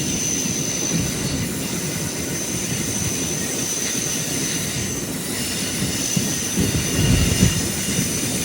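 Jan Shatabdi Express slowing as it rounds a big curve just before Kollam station, a steady loud rumble of wheels and carriages with a faint high squeal of wheels on the bend throughout.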